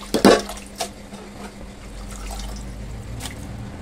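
Water splashes and trickles as a pot is rinsed, opening with a couple of quick sloshing bursts followed by a soft, steady dribble of running water.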